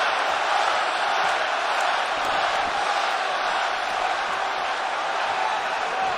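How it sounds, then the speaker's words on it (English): A Las Vegas crowd at a UFC heavyweight bout between Ngannou and Derek Lewis, midway through round 2, roars as a steady, dense wall of noise that holds level throughout. "Testy Vegas crowd here"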